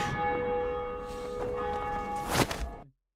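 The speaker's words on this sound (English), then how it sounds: "The bell ring had to be there." A bell rings with a steady sustained tone that hangs and slowly fades, then a brief thump or footstep before the sound cuts off abruptly.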